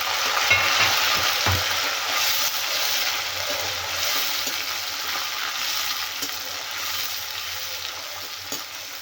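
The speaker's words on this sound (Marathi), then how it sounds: "आता याचा कच्चा वास जाईपर्यंत छान आपल्याला त्याला फ्राय करायचे" Masala sizzling and frying in a pan with a tomato added, a steady broadband hiss with occasional stirring scrapes and soft clatter, close and fairly loud with no talk.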